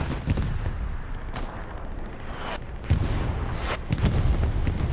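Artillery barrage in Hell Let Loose during a competitive match: a dense, continuous rumble of impacts, with heavier booms landing roughly every second, loud and sustained throughout with no talk.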